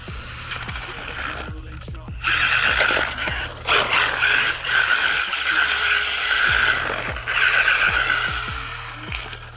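A brushless ZLL SG918 MAX RC road car with a smaller motor runs at full throttle, its high electric whine rising and falling continuously, with tire scrubbing and a few sharp clicks mixed in.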